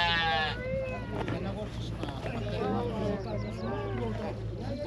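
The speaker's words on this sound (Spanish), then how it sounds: "ahí están las ovejas que ya están entrando. Miren cómo se están bañando" Sheep bleat repeatedly as they are driven into water for bathing, several overlapping calls at close range over a steady background wash, with a person speaking over them.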